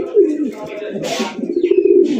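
Close, low cooing of Kaldom high-flyer pigeons rolls on continuously, with a brief rustle in the middle.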